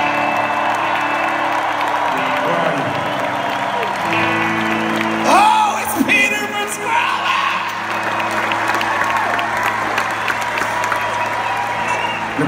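Concert crowd applauding and cheering for a guest joining the headliner on stage at BJCC in Birmingham, sustained clapping and whoops under a voice over the PA, with some shouts rising midway.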